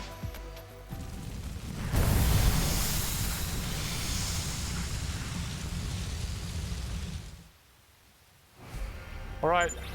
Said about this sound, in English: Alright, it's raining.